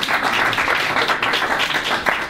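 An audience in a lecture hall claps steadily through the whole moment, a dense, even wash of applause with no talk over it.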